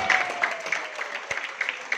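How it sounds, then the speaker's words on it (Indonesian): A small audience at an agricultural product training session gives a short, fairly quiet round of scattered clapping, uneven and thin, lasting about two seconds. "Tepuk tangan untuk kita."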